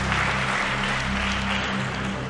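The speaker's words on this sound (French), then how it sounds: "Est-ce qu'on peut applaudir très fort pour Barthélemy?" An audience applauds loudly for a contestant at a tour final game show, a continuous thick burst of clapping that holds strong throughout, with a low hum underneath.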